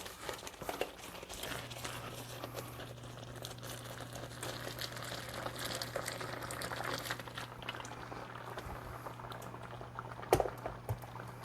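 Liquid is poured into a hot cooking pot with cube steak and yellow rice and bubbles and simmers, giving a faint, steady boiling hiss with soft crinkly bursts and a low hum underneath.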